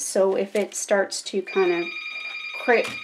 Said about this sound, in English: pardon my phone for ringing